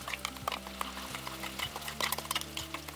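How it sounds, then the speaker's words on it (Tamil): Ground drumstick pulp stirred into oil in a pan over low heat: quiet, close scraping and light clinks of a spoon, with faint sizzling under a steady low hum. "சேர்த்துட்டு அப்படியே இந்த எண்ணெயில் நல்லா ஒரு கலக்கு கலந்து விட்டுடுங்க."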